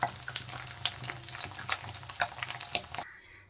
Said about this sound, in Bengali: এই পনিরগুলো ভাজা হয়ে গেছে